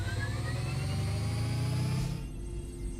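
Spaceship cruise engines charge in the space game Landinar Into the Void, a steady droning engine hum with a rising whine that drops away after about two seconds into a quieter low rumble.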